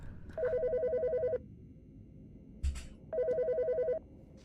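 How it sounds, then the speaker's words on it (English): In the Autopsy Simulator video game, a phone rings in two clear electronic bursts, each about a second long with a short pulsing warble, separated by a pause and a brief thump, with no talk. "The fucking phone."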